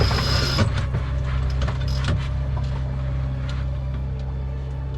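A sailboat's motor runs nearby with a steady low droning hum and constant harmonics, continuous and fairly loud, with a few light knocks and rattles on top.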